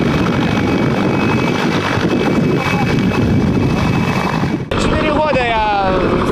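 A helicopter in a helicopter sport competition in Zaporizhzhia, flying a slung load through gates and lowering it into water barrels, gives a loud, continuous engine and rotor roar that cuts off abruptly, after which a voice speaks.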